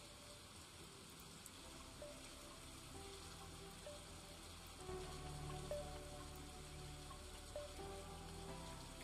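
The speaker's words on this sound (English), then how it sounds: "I think it's because it's raining. The rain is so loud." Rain falling in the video game Stardew Valley, a steady, dense hiss of rain with faint scattered tones underneath, continuous and even throughout.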